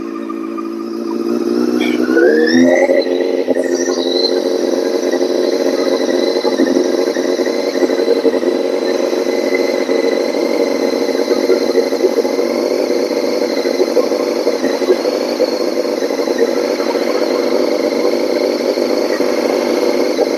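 A 2000 Yamaha R6 motorcycle engine idles steadily on choke while warming up, a loud, even, high-pitched whine that holds constant after a brief blip near the start, with no talk.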